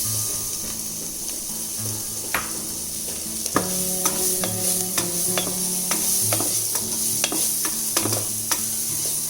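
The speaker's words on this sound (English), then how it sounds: "Fry your onions for about 3 to 4 minutes till they become a little golden brown" Onions and cumin seeds fry in butter in a pan, a steady close sizzle with scattered clicks and scrapes from stirring, plus a faint low hum in the background.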